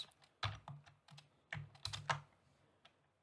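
Computer keyboard keys are tapped for a shortcut in a few short, clustered clicks, close and clear against a quiet background, with no voices.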